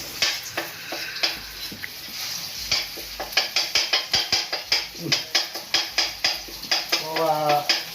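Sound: stir-frying southern Thai curry paste in a hot wok

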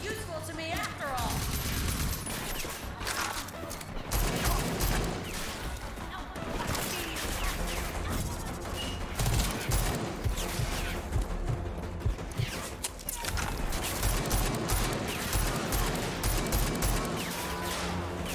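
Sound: gunfire in the video game Rage 2

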